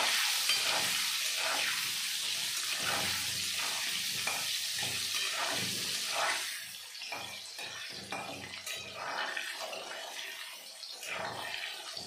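Potatoes frying with turmeric and salt in oil, a loud continuous sizzle with steady stirring scrapes that eases off slightly toward the end.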